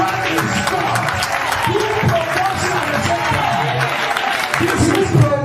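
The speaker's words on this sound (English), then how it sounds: "I'm going to clap for Jesus." Congregation clapping during a church service, dense and continuous with crowd noise and voices mixed in throughout.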